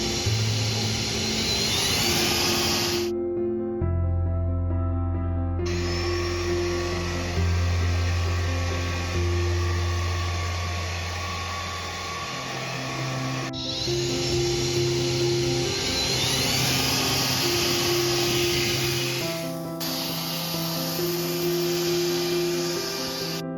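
Corvan K18 cordless vacuum and mop running with a steady electric motor whine and hum that shifts in tone several times over roughly twenty seconds, heard close with no talking.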